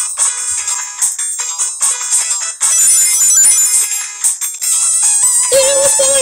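An Android phone ringtone plays loud and close, a bright looping electronic melody with repeated bursts that runs throughout.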